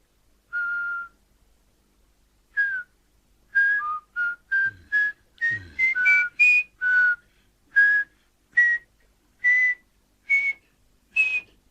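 Cartoon characters whistle a series of short, clear notes alone, a dozen or more bursts in an uneven rhythm with brief pauses between, fairly loud and close.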